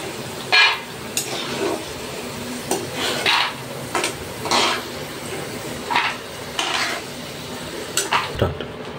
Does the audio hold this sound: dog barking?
no